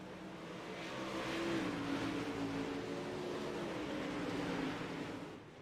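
Dirt track race cars roar around the oval at Eldora in a sprint race, a continuous loud engine drone with rising and falling pitch as the pack passes, and no voices over it.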